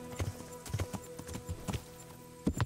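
Horse hooves clip-clop in the medieval video game Kingdom Come: Deliverance, a steady close rhythm of paired hoofbeats with a faint low hum underneath and no talk.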